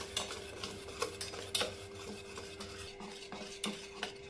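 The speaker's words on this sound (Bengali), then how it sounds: "আবারও আমি ভালো করে মিশিয়ে নেব। ভালো করে ব্যাটারটা তৈরি করে নিতে হবে।" Semolina sponge cake batter is stirred in a bowl, giving a faint, close scraping and swishing with light repeated knocks of the utensil against the bowl.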